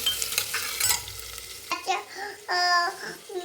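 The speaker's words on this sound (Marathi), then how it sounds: "आपल्याला छान असं परतून घ्यायचंय आहे गाजर आणि शेंगदाणे" Carrots and peanuts stirred and sautéed in a pan for masale bhat, with a steady close sizzle broken by scraping spatula strokes and a brief metallic clink.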